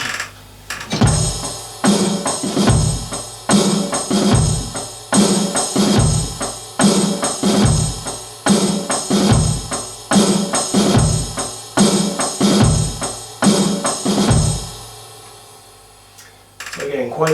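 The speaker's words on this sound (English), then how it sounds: "this is bass drum on the 1, snare drum on the 3, and then a double tap in between the 4 and the 1 again" A drum kit plays a groove: a washing ride cymbal over bass drum on one, snare on three, and a quick double kick before the downbeat, repeating steadily and loud until the ride fades out.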